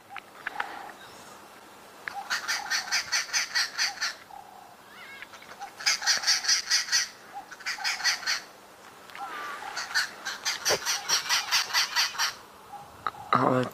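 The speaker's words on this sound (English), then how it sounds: "Incredible how these birds and these babblers go and attack the snake to try and mob it" Babblers squawk and chatter in repeated harsh bursts while mobbing a snake, several calling together in waves separated by short pauses, fairly close.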